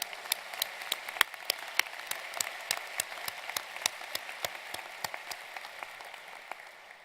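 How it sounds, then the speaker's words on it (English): Graduation ceremony audience applauds with sparse, distinct claps that ring out separately over a soft wash of lighter clapping. The claps are moderately loud and irregular in rhythm, and no one speaks over them. "Please join me once again in a round of applause for our supporters"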